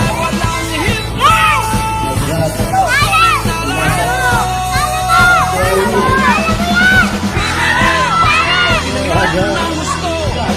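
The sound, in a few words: crowd cheering at a basketball game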